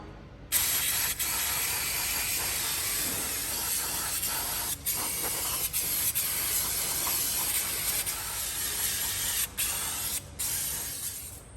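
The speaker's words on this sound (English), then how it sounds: "grab yourself a brake cleaner and give this a good spray down" An aerosol can of brake cleaner sprays on a Ford Everest's rear brake parts in a loud, continuous hiss for several seconds, broken by a few short pauses.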